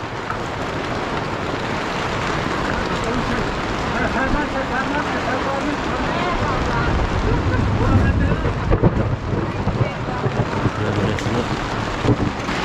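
Stormy wind gusting across cold mountain highlands, a steady loud broadband roar that swells and buffets the microphone throughout, with people talking underneath.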